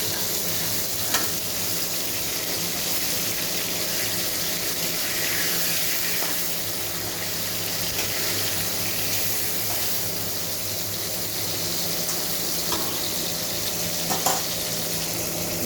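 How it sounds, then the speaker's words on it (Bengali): Rohu fish pieces fry in hot oil for a rui machher jhol with green banana, a constant crackling sizzle close up that runs unbroken, with a few faint clinks now and then. "মাছগুলো আমার ভাজা হয়ে গেছে"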